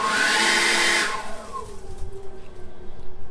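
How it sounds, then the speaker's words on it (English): A Seyvum 650CFM 40V brushless leaf blower roars loudly at full power, then its motor winds down with a falling whine and fades to a faint, uneven whir. "So let's blow some of these leaves."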